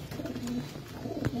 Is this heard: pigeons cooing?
yes